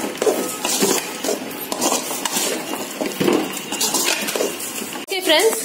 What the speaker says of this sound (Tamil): சேர்த்து நல்லா கிளறிடுங்க.